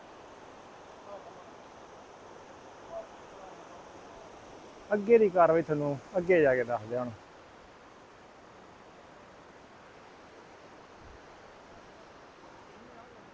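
A mountain river rushes steadily on the route toward Hemkund Sahib, a broad, even wash of flowing water that persists throughout, with someone briefly talking over it midway.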